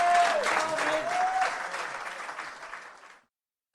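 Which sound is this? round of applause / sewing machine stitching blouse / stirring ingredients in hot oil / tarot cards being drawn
round of applause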